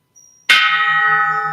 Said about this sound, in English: Listening to the bell,